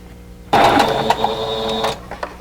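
A sewing machine stitches quilt block fabric pieces in one close, loud burst of fast, even whirring that runs about a second and a half, then stops abruptly. A few small clicks follow.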